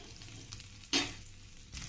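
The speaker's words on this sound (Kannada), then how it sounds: "ಗೋಡಂಬಿ ಹಾಕಿದ್ಮೇಲೆ ಸಹ ಒಂದ್ಸಲ ಕೈ ಆಡಿಸ್ಕೊಳ್ಳೋಣ" Cashews fry in a pan and are stirred, a continuous soft sizzle broken by one sharp scrape of the spoon near the middle and another stir at the end, with no voices.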